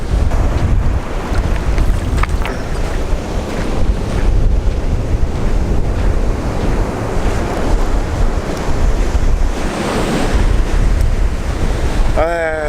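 Waves and gusting wind at Douli beach in Taiwan crash and rumble loudly and continuously, with heavy wind buffeting on the microphone throughout.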